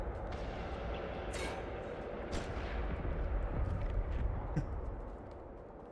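Gunfire in the video game Reanimal, a few sharp cracking shots over a dense rumbling game soundscape, with bursts near the start and a trailing boom as things quiet down.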